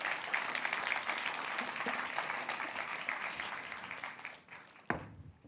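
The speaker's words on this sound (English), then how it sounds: "Big round of applause, please." Audience applause at a youth awards gala ceremony, moderately loud and sustained before thinning out, ending with a single sharp knock or thump as the clapping fades.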